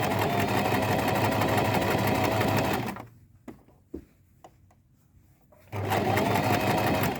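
A sewing machine stitches fabric with a steady, close whirring run, stops briefly with a few soft clicks and handling sounds, then starts sewing again at the same even pace.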